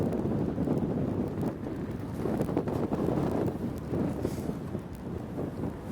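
Steady wind gusting across an outdoor arena polo field, buffeting the microphone in a continuous low roar, with faint thuds underneath.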